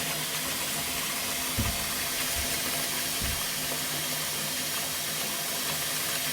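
Water running from a tap into a sink to fill it for soaking a trumpet, a steady broadband rush close by with a few low knocks early on.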